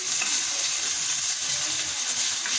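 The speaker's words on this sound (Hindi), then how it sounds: "अब मैं इसमें ये मावा डाल देती हूँ, इसको भी थोड़ा भून लेंगे ऐसे" Mawa (milk solids) for gujiya roasts in a dry pan with no ghee, making a loud, unbroken frying hiss with soft stirring scrapes underneath, close and steady throughout.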